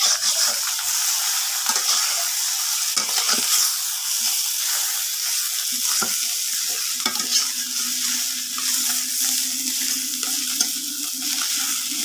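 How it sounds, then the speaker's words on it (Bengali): Fish fries in hot oil with a loud, unbroken close-up sizzle and hiss, broken now and then by faint clicks of a utensil, and a low steady hum joins in the second half. "যে মাছ ভাজি হয়ে গেছে, এখন নামিয়ে নিলাম।"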